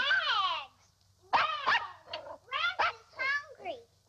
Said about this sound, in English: Don't put the dog on the table.